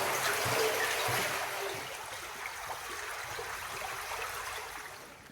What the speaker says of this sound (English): The river is just making its way along and into the tunnel.